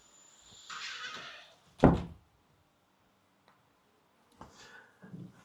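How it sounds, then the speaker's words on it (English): Indoor door being closed, a rustle and scrape followed by a single solid thunk, then quiet with faint later shuffling noises, close and fairly soft overall. "let me jump up and close this door here"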